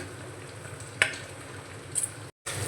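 Capsicum, carrot and onion sizzle softly in a pan as they are stirred together, with a faint steady fry and a couple of brief scraping knocks.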